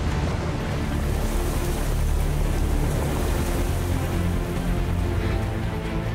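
Ocean surf breaking around people stranded in the water after a shipwreck, a loud continuous rushing wash with churning turbulence and no clear pauses, close and alone without voices.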